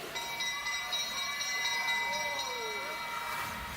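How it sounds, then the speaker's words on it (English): At a junior track cycling race in a Melbourne velodrome, the final-lap bell rings in a rapid, steady clang for several seconds, faint and distant under the crowd noise of the arena. "Paige Squire gets the bell"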